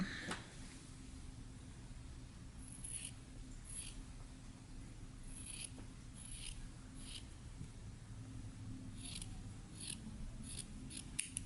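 Scissors snipping through T-shirt fabric, faint intermittent cuts spread over a low background hum, quiet and close with no voices.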